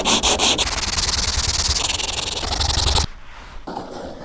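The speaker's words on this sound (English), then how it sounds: "I'm just gonna take off the high bits with some 80 grit" Sandpaper of 80 grit scrubs over body filler on a rusty car panel, loud fast back-and-forth rasping that stops abruptly, followed by a softer, lighter pass.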